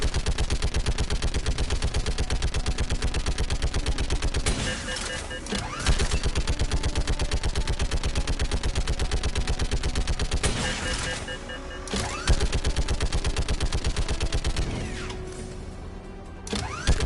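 Turret gunfire in Mass Effect 3 Legendary Edition: sustained rapid automatic bursts, loud and close, running almost continuously with a few brief pauses and mechanical clanks between volleys.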